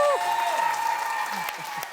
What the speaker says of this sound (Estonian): Teeme ühtlasi suure aplausi punasel tiimile Sander Õigus ja Andrei Svake.